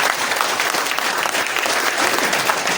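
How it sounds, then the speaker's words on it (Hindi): An indoor audience of about sixty people at a company talk claps loudly and continuously, a dense, even wash of applause with no break. "एक जोरदार ताली हो जाए आप लोगों के लिए।"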